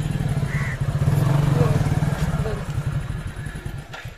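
A motorcycle used for village goods delivery idles nearby with a steady, low, rapid engine putter, holding level for a few seconds before easing slightly, while people talk close by.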